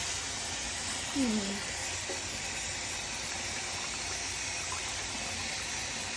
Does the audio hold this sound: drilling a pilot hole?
no